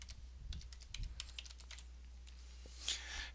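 A password being typed on a computer keyboard: quiet, quick keystrokes in an irregular burst, heard alone and close.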